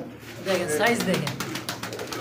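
Large pigeons in a big cage coo softly in the background while someone talks over them throughout.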